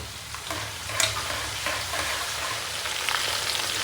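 Green chilies, curry leaves, ginger and garlic fry in oil over a medium flame, a steady close sizzle with occasional stirring scrapes and small pops, no voices.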